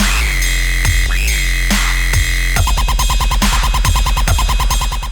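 Excerpt of a track: a loud electronic piece that opens with a sustained, bending synth melody over heavy bass, then switches around the midpoint into a tight, pulsing rhythmic section of repeated stabs.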